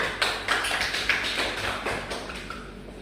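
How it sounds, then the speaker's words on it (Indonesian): A small classroom group claps for a student presenter, a brief burst of close, uneven hand claps that rises quickly and fades out over a few seconds. "beri aplaus untuk Fiora"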